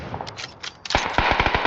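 Rapid automatic gunfire from the PC game PUBG, a brief burst followed by a tight string of sharp, loud shots in quick rhythm.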